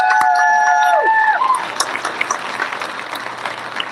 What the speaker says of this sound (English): If we could give another round of applause for all of our ambassador candidates